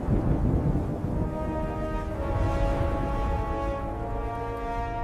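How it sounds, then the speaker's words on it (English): A thunderstorm rumbles on with continuous low thunder and rain under steady wind noise, loud and unbroken from start to finish, with no one speaking. "That's no storm of mine."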